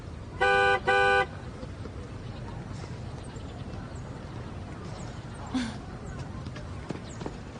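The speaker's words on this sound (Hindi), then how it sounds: "पीछे वाला हॉर्न बजा रहा है।" Two short, loud car horn honks in quick succession over steady traffic rumble, followed by quiet street noise.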